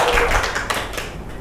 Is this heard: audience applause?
yes